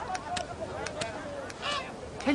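A goose honks a few times in short bursts at close range, with faint speech-like sounds mixed in, from a Bulgarian telling of an Andersen fairy tale about a grandfather trading animals.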